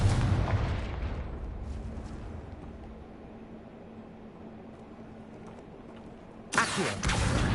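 A Confringo spell explosion in Hogwarts Legacy opens the clip as a loud, booming blast, then decays into a long rumbling tail, with a second sharp burst near the end.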